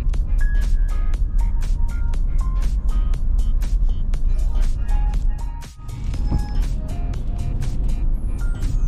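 Sunday market-day road traffic in a Philippine town, a steady dense rumble of cars and motor vehicles passing close by, with horn-like tones and engine whine rising over a constant loud roar.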